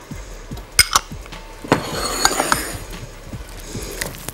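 Spring roll filling with soy sauce being stirred in a pan, with scattered metallic clinks and scrapes of a utensil against the pan and a soft shuffling of the mixture, irregular and close.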